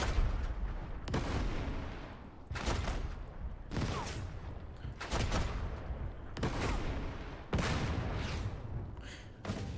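Repeated bursts of gunfire from several units converging on an enemy tank in the WW2 strategy game Total Tank Generals, Operation Torch, with sharp volleys roughly every second or two over a continuous rumbling battle bed.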